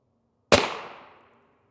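A single sharp rifle shot fires an M193 round into a ShotStop Duritium PA Level III+ body armor plate, a loud close crack with a short decaying ring, alone in the quiet.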